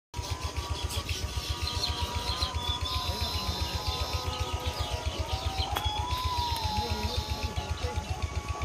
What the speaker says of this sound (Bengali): বাবুই পাখির কিচিমিচি শব্দে আপনার সারাক্ষণ ওখানেই বসে থাকতে মন চাইবে।